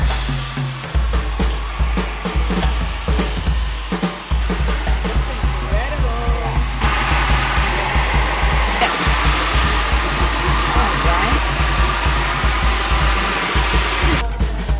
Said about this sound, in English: we are now just going to go in with the diffuser on high heat, low speed